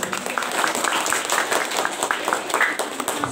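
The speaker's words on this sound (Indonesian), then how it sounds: "alhamdulillah, tepuk tangan" Audience applause at a school graduation ceremony, a steady wash of many hands clapping throughout, moderately loud and dense with no voices standing out.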